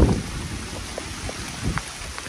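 Heavy rain falls during a trek at Rayakottai fort near Shoolagiri, a steady close hiss with a few heavier drop impacts and no talking.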